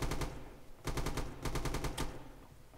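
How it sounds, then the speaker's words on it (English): Automatic machine gun fire in a video game, sounding as several quick rapid bursts separated by short pauses, fairly faint and with no talk over it. "We got Shellshock here in the top building here with his machine gun."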